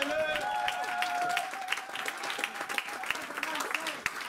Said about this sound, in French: On peut acclamer le messager de l'air.